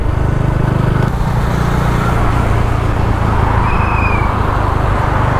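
Cars race along a highway with a continuous loud engine drone and heavy wind buffeting, one vehicle's note rising briefly near the end, no voices.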